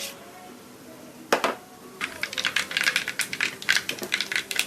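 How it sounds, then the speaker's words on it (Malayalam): Mustard seeds pop in hot oil in a clay pot, a quick scatter of sharp crackles and snaps that starts with one loud pop and then keeps going densely, close and bright, with no talking. "കടു നല്ലതുപോലെ പൊട്ടിയിട്ടുണ്ട്"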